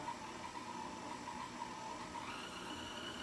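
An electric mixer whisks cookie dough at fast speed, giving a steady, faint motor whir with a constant hum, unbroken and without talk.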